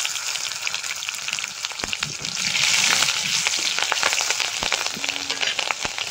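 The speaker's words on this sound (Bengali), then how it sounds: "তেলে কালো জিরে আর কাঁচা লঙ্কা দিয়ে দেবো।" Black cumin seeds and green chilies fry in hot oil, a loud continuous sizzle and crackle with occasional stirring knocks.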